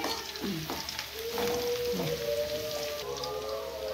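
Dry coconut frying in a pan for a paper poha seasoning, a soft continuous sizzle and crackle close by, with occasional light scraping and faint tonal sounds over it.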